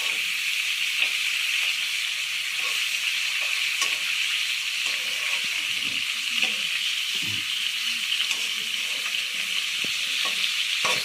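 Fish frying in oil in a pan in a village kitchen produces a steady, loud sizzling hiss throughout, with small pops and faint stirring clicks underneath.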